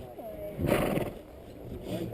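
A polo horse whinnies and shifts nearby at a stable, its calls and movement mixed under close conversation between people.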